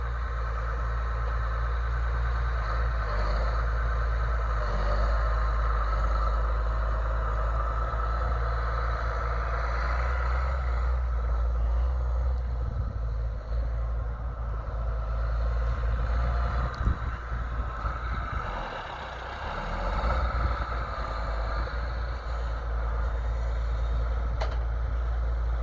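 A heavy tractor engine drones steadily throughout, a constant low rumble with slight shifts in pitch and load, no voices over it.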